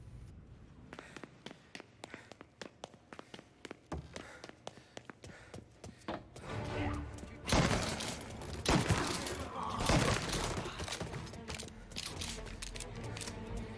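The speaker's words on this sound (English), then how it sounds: "Here you can see why hip firing with the shotgun is so good." Rapid gunfire from a shotgun fired from the hip in Mafia Definitive Edition, a dense run of sharp loud blasts that thickens into continuous heavy shooting over the second half.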